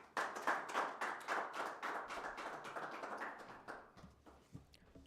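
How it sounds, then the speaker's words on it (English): Steady applause from an audience at a Namibian government partnership ceremony: rapid, dense clapping fills the room, then thins out into a few scattered claps near the end. "Another round of applause, please."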